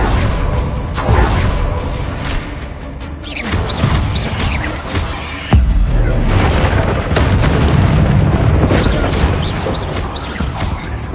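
Bombarda blasting spells explode in Hogwarts Legacy, a string of loud, heavy booms with crashes and whooshes over about eleven seconds. Spoken spell incantations mix in among the blasts.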